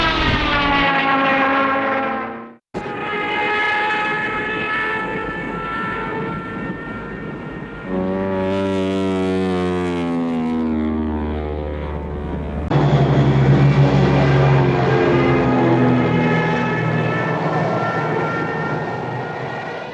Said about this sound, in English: Another effect from the Warner Brothers library is the prop plane power dive scream, and it is featured in 5 Bond films beginning with Goldfinger.